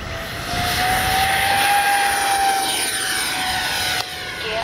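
A Freewing F-14A Tomcat RC jet with twin 64mm electric ducted fans takes off, its loud, steady turbine-like whine rising and sustained throughout, with no talking.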